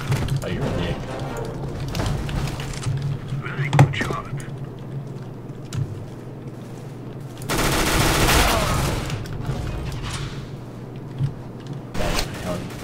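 Gunfire in Counter-Strike: Global Offensive, a few sharp shots and a louder burst of firing among weapon handling clicks, mixed with a person talking over the game.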